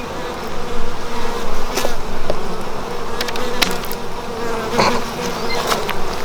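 Honey bees buzz loudly and continuously around an open hive during an inspection, a dense close drone with swells as individual bees pass near, plus a few faint clicks of handling.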